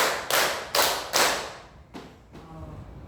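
Classroom ice-breaker clap game: a group strikes four loud, evenly spaced claps in unison, followed by a softer fifth hit and a faint low murmur as the sound decays.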